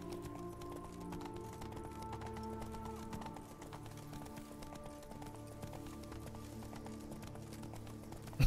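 Rhythmic clip-clop of horse hooves trotting steadily in The Witcher 3: Wild Hunt – Blood and Wine, layered over a soft tonal musical background, with a brief click at the very end.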